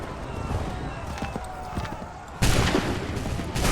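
Soldiers fire a musket volley in Assassin's Creed 3: after a stretch of low battlefield rumble, a sudden dense crackling burst of massed gunfire erupts and keeps roaring to the end.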